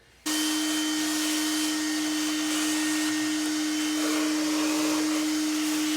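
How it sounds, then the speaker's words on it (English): A vacuum cleaner switches on abruptly and runs with a loud, steady whine and a high, constant tone, close by and uninterrupted. "I'm going to go ahead and vacuum that out."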